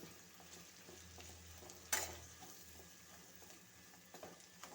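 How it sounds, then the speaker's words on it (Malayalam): Onions sizzle quietly in a pan over a low flame while Kerala chicken roast is being prepared, a soft steady frying hiss with one brief sharp clink partway through. "അപ്പോൾ അതിലേക്ക് നമുക്ക് സവാള ഇട്ട് കൊടുക്കാം"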